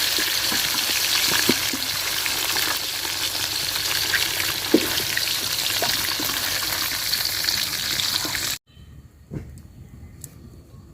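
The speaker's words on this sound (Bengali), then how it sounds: "তো মাছটা দেখেন আমি হালকা করে ভাজিয়ে নিচ্ছি" Shing fish lightly frying in oil crackles in a steady, loud sizzle for most of the stretch, then cuts abruptly to near quiet with a few faint clinks and a soft tap.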